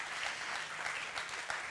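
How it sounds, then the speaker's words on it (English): A crowd at a forum event applauds, a continuous wash of many hands clapping at moderate, steady loudness from a slight distance, with no voices standing out. "Round of applause, everyone,"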